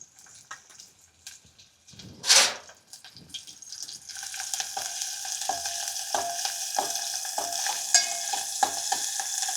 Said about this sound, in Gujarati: તેલ ગરમ થઈ ગયું છે। આપણે એમાં પહેલા લસણ નાખી દેવાનું છે, પછી આપણે આ મરચી નાખી દેવાની છે।